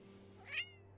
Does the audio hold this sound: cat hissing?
yes